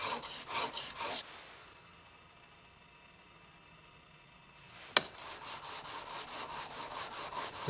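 Chisel face rubbed back and forth on a sharpening stone at a Nordic timber building site: rhythmic close scraping strokes, a quiet pause with a faint hum, a sharp click, then more steady strokes.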